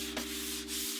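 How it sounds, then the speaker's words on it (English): Sandpaper rubs lightly over a Varathane-coated pine casing in a brief, close, breathy hiss with a steady background hum. "just a real quick pass with the sandpaper"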